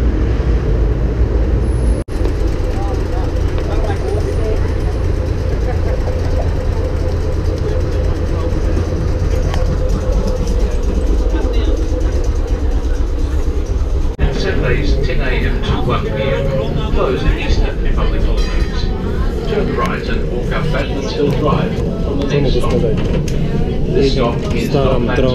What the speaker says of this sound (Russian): А вот и наш трамвайчик.